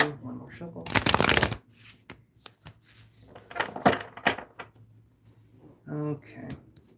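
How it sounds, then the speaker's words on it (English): Tarot cards are shuffled up close in a long riffling burst, then lighter flicks and taps, with a voice talking between the card sounds. "one more shuffle."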